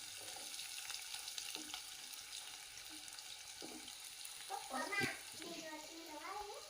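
Mustard seeds and finely chopped onions, later joined by green chillies, fry in hot oil for crispy pani puri, a soft steady sizzle with a few stirring scrapes and faint voices in the background.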